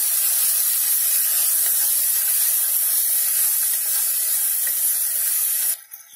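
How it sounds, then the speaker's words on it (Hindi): Five boiled eggs frying in hot masala gravy in a pan, giving a steady, loud sizzling hiss that runs unbroken for several seconds before dropping off sharply at the end. "अब इसे 1 मिनट तक फ्राई कर लेते हैं।"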